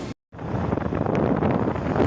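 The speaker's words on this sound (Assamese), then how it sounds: "ক্ৰমান্বয়ে ঠাণ্ডা বতাহ আহিছে বতৰটো ঠাণ্ডা হৈ আহিছে" Cold wind gusts across the microphone at a roadside stop, giving a loud, continuous rough rumble and rush that drops out briefly near the start, then holds steady to the end.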